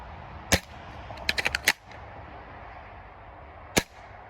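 Airsoft CYMA VSR-10 bolt-action sniper rifle firing, two sharp snappy shots about three seconds apart with a quick cluster of lighter clicks between them, close by with no talk.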